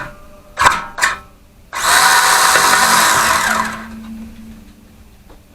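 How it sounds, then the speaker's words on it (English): A power tool works at a spark plug on a small gas engine rigged to an alternator as a battery charger and jump-starter: two quick clicks, then about two seconds of loud whirring that winds down to a faint hum. "I'm trying to get the spark plug out right now because I want to start it."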